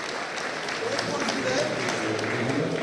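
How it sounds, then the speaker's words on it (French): A convention audience applauds two referees before a game at a geek event, a steady wash of clapping mixed with voices talking throughout. "Mesdames, messieurs, on applaudit Mathieu et Fabrice, nos deux arbitres."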